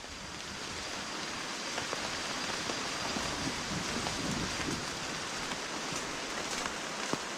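Rain falls steadily in the Congo, an even hiss of drops on leaves and ground with occasional louder patters, no voices.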